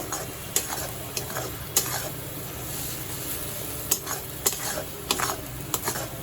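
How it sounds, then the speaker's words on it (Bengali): Spice paste for butter chicken sautés in a pan with a continuous sizzle while a utensil scrapes and taps against the pan at irregular intervals, close and clear. "ভালো করে পেস্টটা কষবো, রঙটা চেঞ্জ হওয়া পর্যন্ত।"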